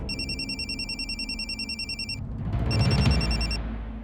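A telephone ringtone trills in repeated electronic bursts, pausing briefly before ringing again, unanswered, with a low rumbling background bed underneath.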